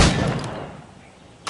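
Single gunshot fired at practice targets in a PS4 shooting game, a sharp loud crack that trails off into a decaying echo, with a faint click at the end.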